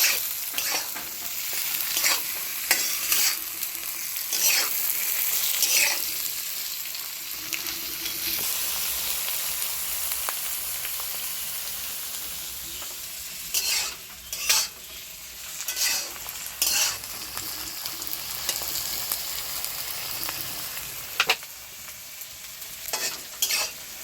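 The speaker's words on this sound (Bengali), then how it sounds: "এখন আমি ক্যাপসিকামগুলো দিয়ে দেবো।" Capsicum and carrot fry in a pan for fried rice, giving a steady close sizzle broken by repeated sharp scraping stirs, with no voices.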